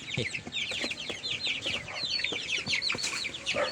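Flock of 45-day-old broiler chickens clucking and chirping continuously at close range, a busy overlapping chorus of short calls with occasional louder squawks.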